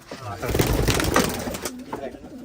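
Pigeons coo softly at a pigeon farm, their low rolling calls mingling with nearby talk in a short burst.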